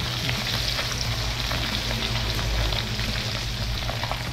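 Dried salted tilapia frying in hot oil outdoors, a steady dense sizzle and crackle that runs unbroken and fairly loud throughout.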